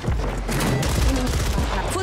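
Rapid bursts of gunfire from a multiplayer shooter video game crackle through a dense, noisy two-second stretch, with a voice talking over the shots.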